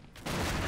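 Barrels exploding in a Prop Hunt match: one sudden, loud blast bursts out after a brief lull and keeps rumbling without letting up.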